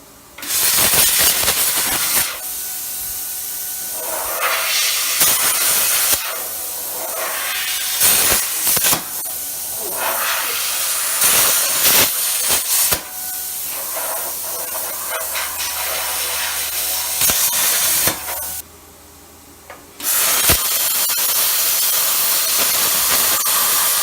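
A JEGS Cut 40 plasma cutter slices through leftover sheet metal, giving a loud, steady hissing roar broken by several short pauses and restarts, ending in a brief quieter gap before resuming.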